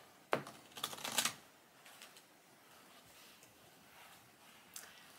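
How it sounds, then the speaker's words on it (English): Playing cards riffled together as two piles are shuffled, a quick burst of crisp fluttering snaps up close, followed by quieter faint card handling. "So do you want to just shuffle the first two piles together?"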